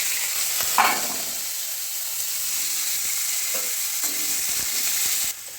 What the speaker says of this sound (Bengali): এবার ফার্স্ট আমি দেখুন আলুগুলো ভেজে নেব।